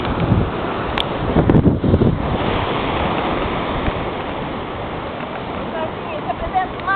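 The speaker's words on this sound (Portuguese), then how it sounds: "Ah, esse é o mar." Sea waves and wind roar continuously at a shoreline, with wind buffeting the microphone and a few brief louder surges near the start, while voices are faintly present underneath.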